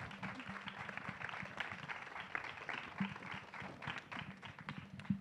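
An audience at a gala final talent contest applauds a performer, a steady, fairly quiet and distant patter of many hands with faint crowd murmur.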